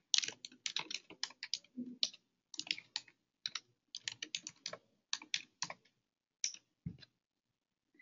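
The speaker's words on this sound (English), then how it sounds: "It's hard to type." A computer keyboard is typed on in quick, uneven bursts of clicking keystrokes with short pauses between them, close and quiet with no talking.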